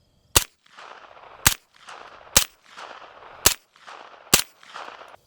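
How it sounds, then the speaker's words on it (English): A suppressed Zenith ZF5 MP5 firing supersonic rounds: five sharp, loud cracks spaced about a second apart, each trailed by a brief rolling echo and a ring off a steel plate, no talking. "Leading off with supersonic rounds so you can see what it is that we're talking about."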